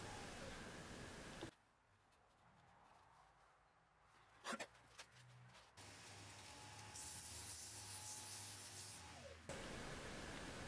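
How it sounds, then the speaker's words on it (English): A turned wooden piece is hand-sanded with sandpaper, giving a steady, close, dry hiss of abrasive rubbing that pauses briefly with a few soft knocks, then resumes louder and continuous. "I'm just using a little bit of sandpaper to clean it up."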